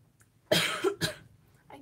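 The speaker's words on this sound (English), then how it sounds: "I keep coughing." Two sharp, harsh coughs in quick succession, close and loud, with a faint breathy sound trailing afterward.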